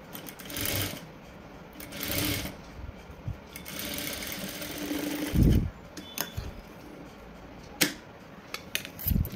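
A sewing machine edge-stitching piping onto cloth runs in short bursts with pauses between them, its motor whirring and needle ticking, heard close up with no talking.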